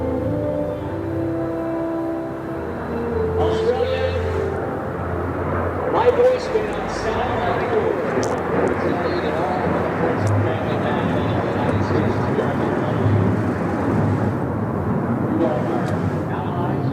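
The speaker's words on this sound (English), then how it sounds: "Look at the angle of bank there on the KC-135." A KC-135 tanker banking over the Gold Coast at the Pacific Airshow, a continuous distant jet roar that builds and holds steadily, with people talking over it.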